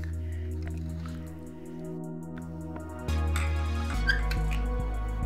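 A wet grinder works millet and poha batter with added water, its motor giving a steady low hum with soft swishing and dripping on top. The drone grows louder and fuller partway through, with no talking.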